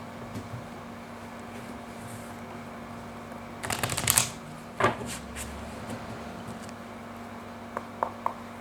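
Tarot cards being shuffled for a reading, heard as a short burst of riffling and flicking near the middle with a few faint taps afterward, set against a steady low room hum.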